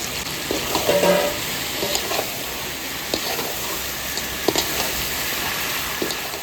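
Chicken and potatoes frying in a pan, giving a steady close sizzle with soft crackles and occasional stirring scrapes. No one speaks.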